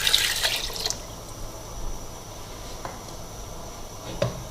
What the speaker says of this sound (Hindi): थोड़ा पानी में और डाल दूंगी ताकि हमारा अच्छी तरह कीमा जो है गल जाए।